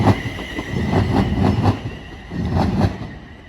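London Northwestern Railway passenger train pulling into Crewe station, wheels rolling past with a rhythmic clickety-clack over rail joints and a faint high squeal, fading toward the end.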